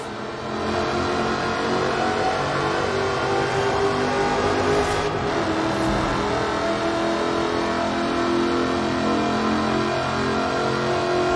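A Jaguar D-Type-style car with a fully aluminium body and a supercharged 5-litre V8 engine, driven in Forza Horizon 4, holds a steady, loud engine roar that swells briefly in the middle and continues without any talk.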